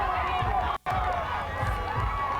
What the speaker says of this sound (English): And the crowd goes crazy.